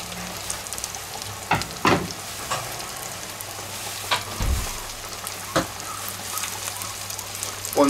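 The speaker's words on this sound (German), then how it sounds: "Und tun die jetzt ebenfalls frittieren, bis sie schön goldbraun sind." Chicken pieces deep frying in hot oil, a steady crackling bubble with occasional louder pops and clatters nearby.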